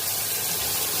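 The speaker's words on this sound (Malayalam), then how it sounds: "അത് വേകാൻ വേണ്ടി അതിൻ്റെ പാകത്തിന് വെള്ളം ഒഴിക്കും" Water is poured into a cooking pan of broccoli florets and onion: a brief, steady rush of liquid lasting about a second, close and fairly loud, with no voices.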